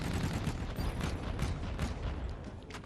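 Rapid bursts of gunfire crackle through a search and destroy match in a competitive Call of Duty game, dense and fairly loud over a busy background for a few seconds.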